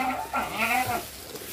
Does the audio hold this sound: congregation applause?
no